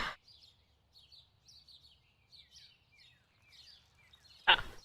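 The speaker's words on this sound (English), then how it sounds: "you guys are hearing the birds from this game" Birds chirp in the party game Fibbage: a run of quiet, high twittering calls repeating every second or so over a faint low hum, ending in a short, louder burst.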